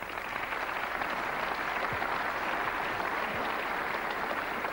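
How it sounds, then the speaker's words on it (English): Steady, dense applause from a snooker crowd for Mike Hallett at the 1989 UK Championship match against Steve Davis, filling the whole stretch at an even level with no voices over it. "Well-deserved round of applause, and Mike Hallett in the driving seat"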